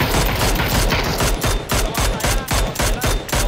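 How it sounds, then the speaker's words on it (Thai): Rapid automatic gunfire in the video game PUBG, a loud, dense burst of about a dozen rhythmic shots fired in quick succession with no break. "เฮ้ยต้องยิงแล้ว"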